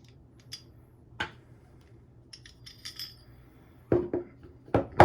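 A barrel is pulled from a Sig Sauer P320 X Carry Legion pistol after its slide and spring come off, giving sparse metallic clicks and small clacks, with a few sharper knocks of metal parts near the end.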